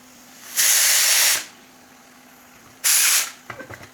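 A pressure cooker whistle vents steam in two loud hissing bursts, the first nearly a second long and the second shorter, with faint clinks afterward.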